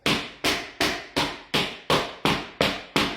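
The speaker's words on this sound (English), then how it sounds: "So you take your little tapping tool, you put it in the track, and then you tap." Nine sharp, evenly spaced knocks from a tapping tool and hammer driving a laminate flooring board along its track, each strike close and loud with a quick decay, and no voices.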